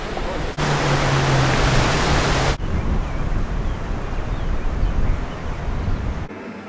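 Strong wind buffets the microphone near a cable car station in Bab El Oued, Algiers, as a loud, continuous roaring rush with a brief low hum early on and no clear speech.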